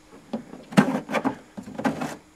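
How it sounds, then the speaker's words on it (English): A drawer on a turntable unit slid open to reveal the needle assembly, a few short plastic bumps and sliding scrapes in quick irregular bursts, close and fairly quiet. "You just undo this drawer"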